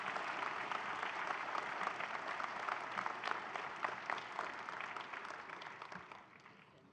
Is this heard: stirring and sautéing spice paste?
no